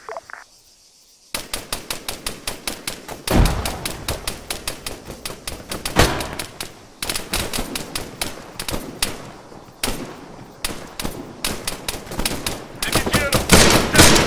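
A firefight in the Arma 3 video game, with rapid bursts of rifle and machine-gun fire crackling in dense volleys and pauses between them, plus a heavier thump of a grenade blast.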